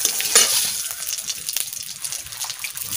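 Cumin seeds, dried red chili and bay leaf hit hot oil in a pan, giving a close, bright, continuous sizzle and crackle with a louder spurt near the start, no talking over it.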